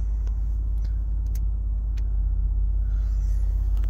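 A 1994 Mitsubishi Delica Space Gear van drives along, heard from inside as a low, steady engine and road rumble with a few faint ticks over a few seconds.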